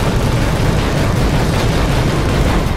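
A shot barrel explodes in the video game Final Fantasy XV, heard as a dense, loud, sustained roar of broadband blast noise with no pauses and no voices.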